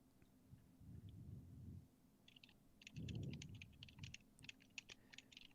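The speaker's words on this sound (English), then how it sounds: "If you listen carefully, you can hear Axel typing away" Faint clicking of keys being typed on a computer keyboard, bursts of quick light taps with short pauses, set against a low soft rumble in the background.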